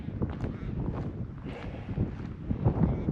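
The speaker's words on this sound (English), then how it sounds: "Still windy." Gusty wind on a mountain hiking track toward Charlotte's Pass buffets the microphone in uneven, rumbling bursts, loud and close, with no voices.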